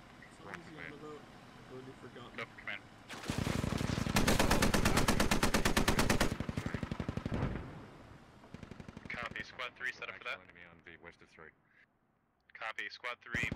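Sustained automatic gunfire in the tactical shooter Squad, aimed at a vehicle, rattles loud and close in a dense burst lasting several seconds, with radio-style voices talking before and after.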